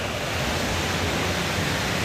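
Loud, steady rushing water below a check dam, a broad constant roar like a torrent pouring over a weir, with no voices.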